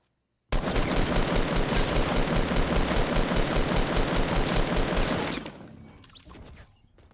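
Gunfire in Fortnite: one loud, continuous burst of rapid automatic shots lasts about five seconds, then cuts off and fades into quieter background noise.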